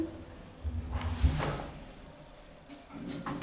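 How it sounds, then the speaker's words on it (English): Lift doors slide open in a Bexleyheath shopping centre, a soft rumbling glide with a couple of quiet clunks, fairly faint against the hum of the car. "Doors opening."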